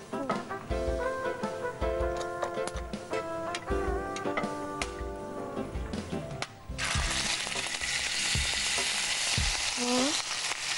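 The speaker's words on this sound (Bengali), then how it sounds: "এবার পেঁয়াজ বাটা, এনাও খুন্তি" Onion paste sizzles in a pan with green cardamom and a clove, a close frying hiss under clinking spatula taps and a faint tonal hum, the sizzle swelling louder and harsher partway through.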